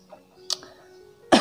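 A woman coughs: a short sharp burst mid-way and a stronger, louder one at the end, close to the microphone over quiet background.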